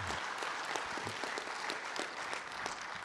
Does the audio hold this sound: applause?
yes